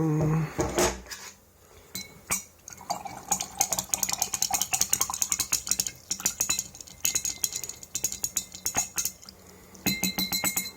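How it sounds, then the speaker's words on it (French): Water being stirred in a container during a homemade colloidal silver preparation, with rapid repeated clinks and clatters of a utensil against the vessel and a faint liquid swirl, steady for several seconds. "Donc maintenant je vais mélanger."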